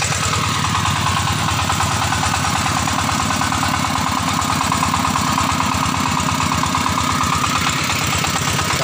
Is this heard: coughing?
no